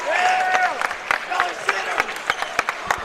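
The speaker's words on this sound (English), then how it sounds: "You can tell one of the cheering sections behind us, they are very vociferous." A loud, vociferous cheering section in a high school basketball crowd at the Armory, Beckley Flying Eagles against Shady Spring Tigers, with dense clapping and shouts sharpened by sharp claps and voices through a busy gym.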